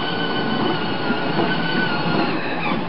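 A small ride-on train rumbles along steadily with a continuous mechanical hum and faint rattling, close by and fairly loud, no voices.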